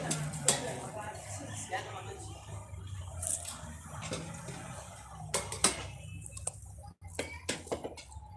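A new round metal chafing dish being handled, with scattered sharp metallic clinks and taps against low background noise while someone talks.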